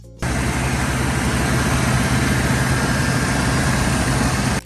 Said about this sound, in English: In 1978, the Ford 302 cubic inch V8, also called the Windsor, became one of the most disappointing engines of the decade.